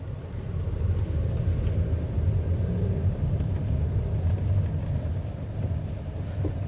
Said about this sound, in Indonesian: Dengan jalan konblok seperti ini, gua akan coba ngebut ya, ngebut dikit ya